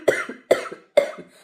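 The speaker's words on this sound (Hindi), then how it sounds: "इतनी तेज खांसी आ रही, जुकाम भी है।" Three sharp, close coughs in quick succession, evenly spaced, with nothing else around them.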